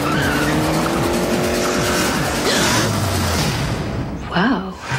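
Racing cars from the Herbie movie roar past with engines revving and tires squealing in long skids, loud and close, while voices speak over the action.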